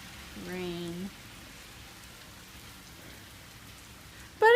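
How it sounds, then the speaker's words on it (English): Steady rain falls on a rainy day, a constant soft hiss throughout, with a brief voice near the start and a sharp sound at the end. "yeah, rain."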